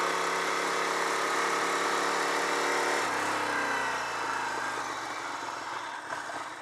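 A Ducati 900SS motorcycle engine idles with a steady, even burble nearby, then its tone shifts and settles lower partway through, with no one speaking.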